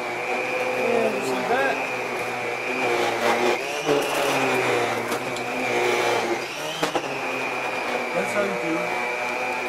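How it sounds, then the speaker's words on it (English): A Miele S5981 vacuum cleaner runs with its power head over pet hair on carpet, a steady close whine and whoosh of suction with someone speaking over it. "I'm going to clean that pet hair up just fine, thanks to my power head"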